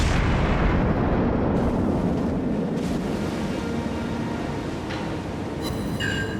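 Naval gunfire in World of Warships crashes out as a dense, loud burst that rumbles and slowly fades over several seconds, with no talking.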